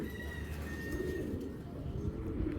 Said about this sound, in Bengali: এটা মাদি কবুতর, এই যে ব্যালেন্স খুব সুন্দর।